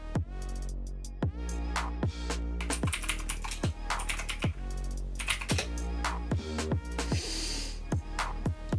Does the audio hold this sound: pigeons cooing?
no